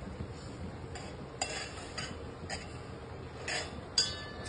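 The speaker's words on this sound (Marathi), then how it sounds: "थोडस हलवून घेऊया." Lemongrass tea being stirred in a pot: a spoon clinks and scrapes against the metal in a steady rhythm of light taps, close and fairly quiet, with no talking.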